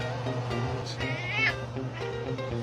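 A cat meows several times in close, drawn-out calls over a steady low background hum, fairly loud and alone without speech.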